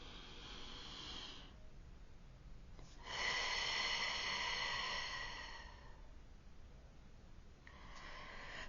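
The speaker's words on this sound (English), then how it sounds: "Take a deep breath with me" Slow deep breathing, close and quiet: a long hissy inhale, a pause, then a fuller exhale, with another breath beginning at the end, no talk.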